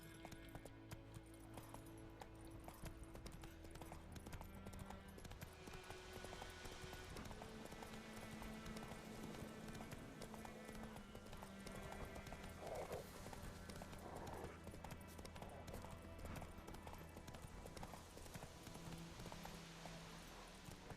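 Horse hooves clip-clop in a steady galloping rhythm in The Witcher 3 video game, continuous and fairly close under a bed of game music and ambience, with occasional snorts.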